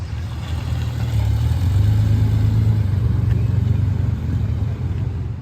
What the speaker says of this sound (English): cars are starting to show up now